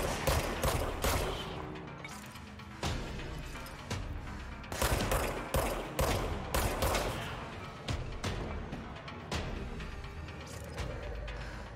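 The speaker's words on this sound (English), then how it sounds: "Getting shot at." Enemy gunfire in the action video game Control, rapid bursts of shots and impacts cracking out in dense, uneven volleys throughout, loud and close with brief gaps between barrages.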